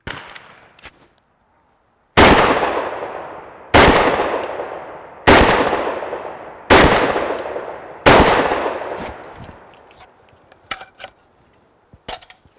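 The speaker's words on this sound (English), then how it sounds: "let me load up these, uh, these mags here and uh, we'll do some more shooting" A Century Arms SAS 12 12-gauge shotgun fires five loud, booming shots in steady succession outdoors, each blast trailing off in a long echoing decay, followed by light handling clicks.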